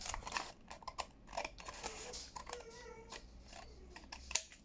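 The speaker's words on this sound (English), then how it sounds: "I am then going to totally cut this part off," Scissors snip through paper while trimming a flap off a window envelope for a junk journal, a few quiet, separate cuts with soft rustling between them, close and faint.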